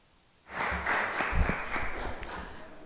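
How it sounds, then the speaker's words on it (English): Audience at a neighborhood planning presentation breaks into applause, a sudden burst of clapping from a modest crowd in a meeting room that stays steady and gradually thins. "Let's give you all a round of applause just for being here tonight."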